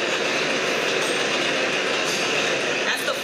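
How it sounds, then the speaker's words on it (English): A New York City subway 4 train rumbles past in the Bronx, a loud, continuous roar of wheels on the rails heard close by. "That's the 4 train."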